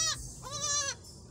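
A goat on a house rooftop, having just given birth, lets out two short nasal bleats in quick succession, close and clear.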